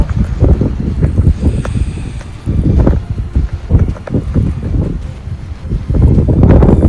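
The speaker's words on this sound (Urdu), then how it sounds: "اتنی تیز ٹھنڈی ہوا" A strong, cold wind buffets the microphone at Chitta Katha mountain lake in Shounter Valley, Kashmir. The loud, roaring gusts rise and fall continuously with no pause.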